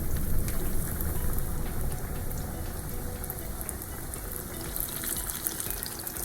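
Chicken pieces frying in hot oil for a Popeyes-style chicken sandwich, a steady dense crackling sizzle that holds at an even level throughout, close and without talk.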